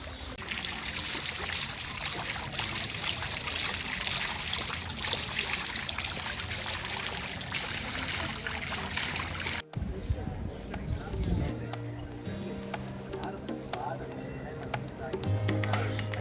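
Water splashing and trickling steadily from a fountain in a Havana plaza, a continuous rushing wash close by, with a person talking over part of it and a cut partway through.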